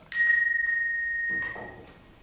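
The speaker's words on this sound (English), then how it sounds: "we shall try the bell once more" A doorbell rings once with a bright, sustained electric chime that rings on and then fades, followed by a brief second ring, heard indoors with no one talking over it.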